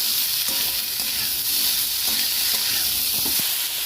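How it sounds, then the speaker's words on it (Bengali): Potatoes with salt and fried chillies sizzling in a pan while being stirred, a steady close hiss broken by repeated scraping and tapping of a spatula. "ভালো করে নেড়ে করে একটু হালকা করে ভাজবো"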